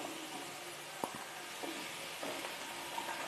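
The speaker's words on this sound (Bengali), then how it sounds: "এবার আমি এর মধ্যে দিয়ে দিচ্ছি কেটে রাখা বেগুন।" Cut eggplant added to potatoes cooking in a pan, producing a continuous soft sizzle with a few brief clinks of stirring.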